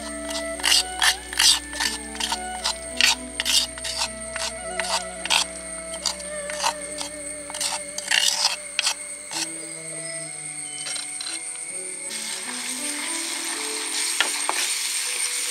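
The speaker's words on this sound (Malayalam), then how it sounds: "ഇഞ്ചിയും വെളുത്തുള്ളിയും കരിയാപ്പില എല്ലാം കൂടെ ഇട്ടിട്ടൊന്ന് വഴറ്റാം." Crushed ginger, garlic and curry leaves sautéing in coconut oil for a Kerala-style river fish curry, a steady sizzle rising under a series of sharp metallic clicks and clatters from the pan and utensil.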